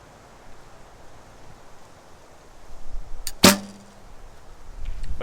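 A single sharp release of a bow fitted with a Ramrods Ultra V4 stabilizer and V-bars, a loud snap with a brief low thrum, standing out once against quiet outdoor background noise picked up by a camera microphone.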